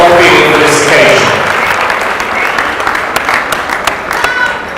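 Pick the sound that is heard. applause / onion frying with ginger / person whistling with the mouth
applause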